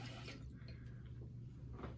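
Water pours steadily from a tap into a small bowl set up for cleaning makeup brushes, a continuous close splashing hiss with no talking.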